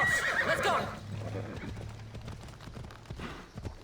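A horse in Assassin's Creed Odyssey, a magical-looking unicorn mount, gives a loud whinny up front, and then hooves clip-clop in a quick galloping rhythm that fades somewhat toward the end.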